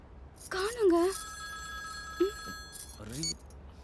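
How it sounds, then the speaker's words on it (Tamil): A mobile phone rings with an incoming call, a bright repeating electronic ringtone heard under people talking to each other nearby. "உன் நம்பர்ல இருந்து கால் வருது."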